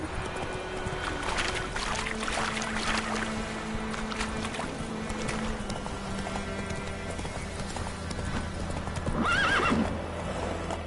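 Galloping hooves drum steadily under a horse in The Witcher 3, with a loud whinny near the end over the game's ambient background.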